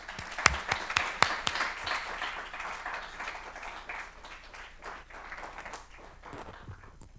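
Audience clapping to welcome Dr. Junius Johnson at a talk, opening with a few sharp, close individual claps before settling into a steady, moderate round of applause that thins toward the end.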